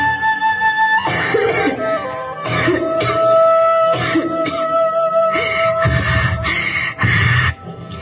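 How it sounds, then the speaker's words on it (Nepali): A person coughs and clears their throat repeatedly in harsh, close bursts, with a steady background tone running beneath. "खोकीले पनि कहिले छाडेन"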